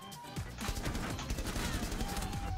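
Rapid bursts of gunfire crackle in Rainbow Six Siege, dense overlapping shots with impacts and debris, loud and close, continuing without pause after a brief quieter start.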